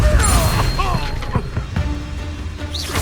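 Depulso force spell cast in the video game Hogwarts Legacy, a brief thumping blast among busy game effects and music-like tones.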